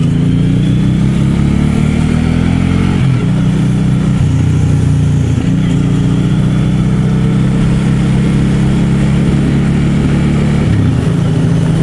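Loud, steady engine of a 2015 Suzuki M109R Boulevard motorcycle, a large low-end-torque cruiser, heard close up with a deep idle that rises in several short revs before dropping back.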